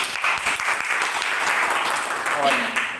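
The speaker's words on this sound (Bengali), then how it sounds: "স্যারের জন্য একটা করতালি" Sustained crowd clapping greets a speaker stepping up for the opening speech at a DXN business seminar, a dense, steady patter of many hands filling the room, with a few voices mixed in.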